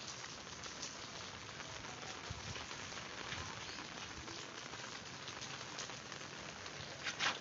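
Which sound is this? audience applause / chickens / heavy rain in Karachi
heavy rain in Karachi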